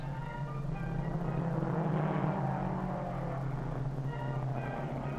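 Racing cars at the 1947 Indianapolis speedway, a steady engine drone and whir that swells toward the middle and then eases, heard from a distance on an old, noisy recording.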